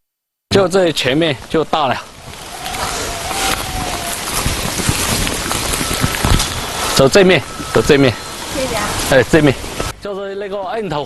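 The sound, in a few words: heavy rain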